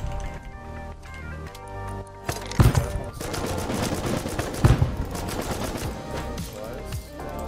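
Gunfire in the survival video game Rust cracks out in repeated bursts and single heavy shots, loud and close, with a few sharper booms among rattling fire.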